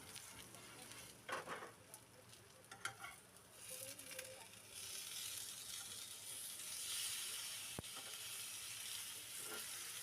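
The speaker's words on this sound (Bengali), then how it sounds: "এইভাবে উল্টিয়ে পাল্টিয়ে ভেজে নেব।" Capsicum, gram flour and rice flour pancake frying in a pan for a tiffin, a quiet steady sizzle that rises partway through, with a few faint scrapes and clinks as it is turned.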